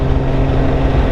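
BMW K1600 motorcycle cruising at moderate speed, a steady broadband roar of engine and wind rumbling continuously and loud without any break.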